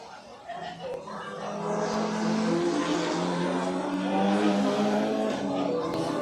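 Race cars running around a track at a racing event, a sustained loud engine roar that swells and holds as the cars pass, with a voice audible beneath the noise.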